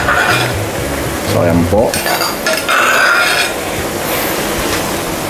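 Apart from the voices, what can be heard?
adding beef to mushroom sauce and stirring in a pan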